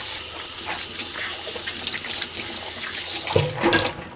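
Hot tap water running into a kitchen sink during handwashing after handling raw meat, a steady close hiss with brief splashy surges as hands move under the stream near the end.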